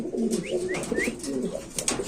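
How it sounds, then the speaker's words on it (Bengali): Pigeons at a pigeon seller's stall coo close by in soft, rolling repeated calls, with a few brief higher chirps over the top. "এই যে দেখেন নর মাদি খুব অ্যাক্টিভ কবুতরগুলা"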